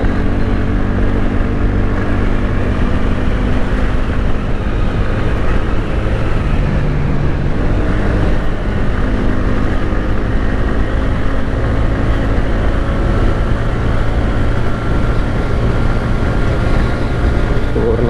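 TVS Ntorq Race XP 125cc scooter ridden at full throttle in race mode on an open road, a loud, continuous engine drone blended with heavy wind rush, steady throughout with no letup.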